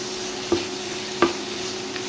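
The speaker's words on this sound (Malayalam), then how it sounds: "ഈ ഉണക്ക ചെമ്മീൻ വറുത്തത് ഇതിലേക്ക് ചേർത്ത് കൊടുക്കാം." Fried dry prawns are stirred into a simmering pickle mixture in a pan: a steady soft bubbling sizzle broken by two sharp spoon knocks, with no voices.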